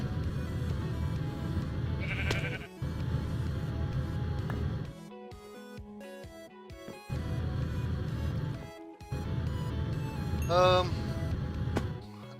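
Game-style sheep bleats from the video game Agrarian Skies 2 ring out twice amid a busy mix of background audio and a voice speaking, with brief gaps of quieter sound between.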